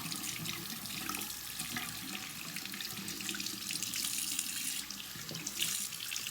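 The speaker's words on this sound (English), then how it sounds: "So I'm just letting some more hot water." Hot water pours steadily from a tap into a sink for rinsing makeup brushes, a loud, continuous splashing rush with no voices over it.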